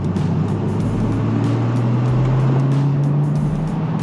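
Porsche 986 Boxster driving at speed on the road, a loud, steady engine drone with rising pitch and constant wind and road roar filling the cabin, with no speech.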